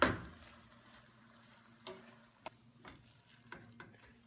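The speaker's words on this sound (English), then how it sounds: "It's been about 10 minutes of stirring." Onions cooking in a pan, with a quiet sizzle under several separate scrapes and knocks of a utensil stirring them, spaced irregularly and heard close up.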